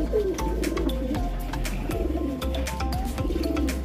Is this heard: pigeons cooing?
yes